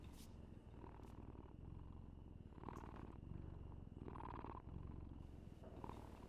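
A cat purrs steadily in the video game Dragon Age: The Veilguard, a close, continuous rumbling purr with a regular pulsing rhythm and a few brief faint sounds over it.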